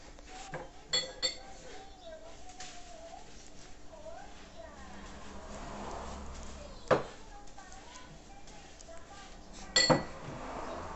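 A child washing dishes at home, with sparse bright clinks of plates and cutlery against each other, a few sharper knocks standing out, under quiet background talk and faint birdsong.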